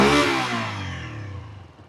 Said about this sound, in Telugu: సో మోటార్ సైకిల్ రెవ్ చేసినప్పుడు ఒక చిన్న స్లోగా రెవ్ అయ్యే సిస్టమ్ అది కనిపిస్తుంది